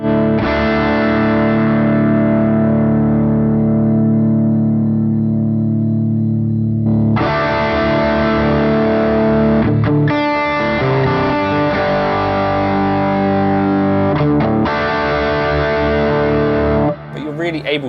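A heavily distorted high-gain electric guitar tone from an amp modeler rings out sustained chords, saturated and thick, with a pause before more driven chords are struck and held.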